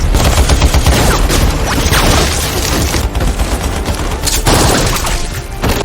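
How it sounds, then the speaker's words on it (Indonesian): Dense, loud gunfire and explosions from a movie action scene, with rapid bursts of shots and booming blasts filling the whole stretch without pause. "langsung disambut bazooka dan diberondong ratusan peluru oleh anak buah Simon"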